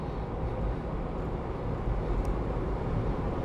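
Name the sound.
2001 Isuzu Trooper engine running while driving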